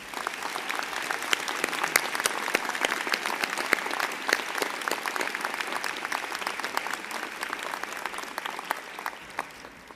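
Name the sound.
applause for the graduation ceremony musicians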